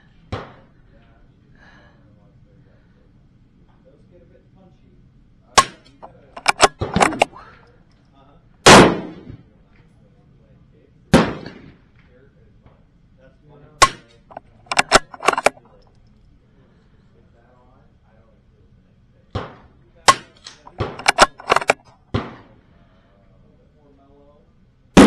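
A CZ firearm fires at a target in a series of sharp, loud cracks, some single and some in quick clusters of three or four, separated by quiet pauses across about twenty-five seconds.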